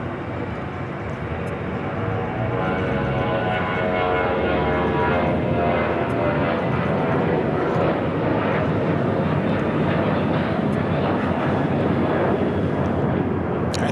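American Airlines heavy jet taking off from runway 25 right at LAX, a loud sustained roar of jet engines building and holding steady throughout, close and continuous with no voices.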